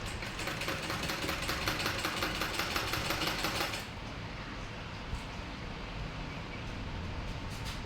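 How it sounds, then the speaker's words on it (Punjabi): A sewing machine stitching cloth, heard as a fast, even mechanical whirr with rapid rhythmic ticking, close and moderately loud, then it stops halfway and leaves a lower hum behind. "ਪਹਿਲਾਂ ਆਪਾਂ ਜੀ ਇਸ ਤਰ੍ਹਾਂ ਕੱਪੜੇ ਤੇ ਥੋੜੀ ਜੀ ਸਲਾਈ ਲਗਾ ਲੈਣੀ ਆ"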